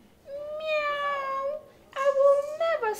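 A voice imitates a cat's meow, two drawn-out mewing calls with a short pause between, clear and close.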